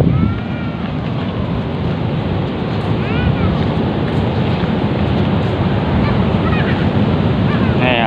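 Sea waves at low tide on Karapyak beach in Pangandaran, West Java, a rocky shore, heard as a constant loud wash of surf mixed with wind rumble on the microphone.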